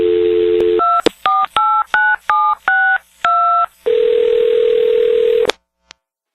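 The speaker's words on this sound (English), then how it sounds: "So let's get Allison on the phone" A telephone call is placed: a steady dial tone, then a quick run of eight or so touch-tone dialing beeps in an even rhythm, then a long ringback tone before it clicks off. Close and clear, with no talk over it.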